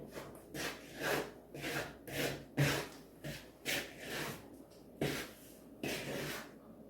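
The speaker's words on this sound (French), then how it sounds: "نخلط هاد الغبره ديال اللوز مع السكر، نخلطهم مزيان" Almond powder and sugar mixed by hand for Algerian m'khabez almond cakes, heard as a soft, rhythmic rubbing and scraping, about a stroke every half second, close up with no talk.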